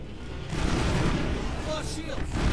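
Sustained, dense gunfire barrage in the sci-fi shooter game Mass Effect: loud, rapid shots and booms blur into one continuous roar that swells across the moment.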